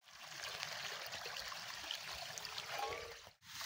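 Water flows steadily at a small stream used for washing dishes outdoors, a close, continuous trickling and splashing rush that briefly cuts out near the end, with no talk.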